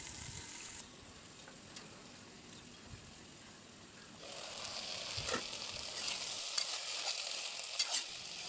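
Eggplant, potato and tomato bhaji fries in a pan on a gas stove, a soft steady sizzle that grows louder and brighter partway through, with a few light clicks and no voices.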